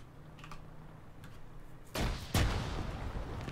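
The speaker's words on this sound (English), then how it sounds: "I'm gonna satchel it." A satchel charge detonating in Arma 3 during a King of the Hill match: one heavy, close blast rolls out, a second boom follows a moment later, then a rumbling tail, after quieter distant gunfire pops.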